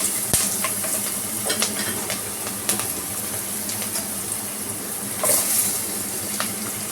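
Onions frying in oil in a pan, making a steady close sizzle with scattered scraping stirs and a brief louder burst toward the end.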